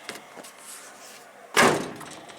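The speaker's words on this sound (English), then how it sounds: "At least the door shut's good." A Jeep J4000 Quadra-Trac door shuts with one solid, close thud after a few faint clicks of handling, fairly loud and alone.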